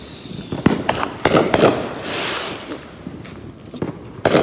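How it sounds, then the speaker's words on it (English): Fireworks going off outdoors at night near a garage, a string of sharp bangs and crackling bursts at irregular intervals with a fizzing hiss between them. "Look at those fireworks."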